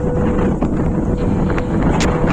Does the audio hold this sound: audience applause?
no